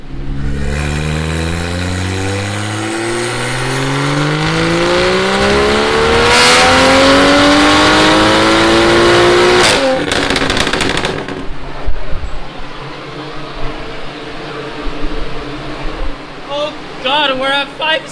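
A turbocharged Toyota Supra time attack car, making about 560 horsepower, revs hard on a dyno, its engine note climbing steadily for ten seconds before a crackling cutoff, followed by rough idle and pops.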